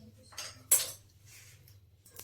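Metal utensils clink and scrape against a pan as ghee goes in while making peanut chikki; a few scattered clinks, one sharper and louder, against quiet kitchen background.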